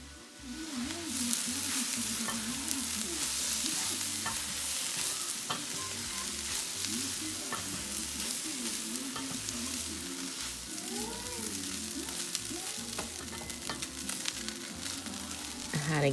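Cooked rice and wheat are stirred together in a hot pan for a carrot rice dish, with a steady sizzle under repeated scraping and shuffling strokes of a spoon, close and unbroken, with no voices.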